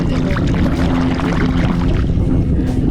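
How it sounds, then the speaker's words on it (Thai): Cockles dug from mudflat mud being washed clean with water, a loud continuous churning slosh and pour with a low rumbling undertone throughout, no talk. "มันอยู่ในโคลนมันดูไม่ค่อยออกใช่ไหมต้องล้างน้ำหน่อย"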